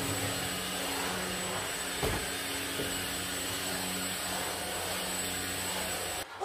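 A household vacuum cleaner runs steadily close by, a constant whining motor hum with a high-pitched tone on top, broken by a couple of brief knocks and a cutoff at the very end.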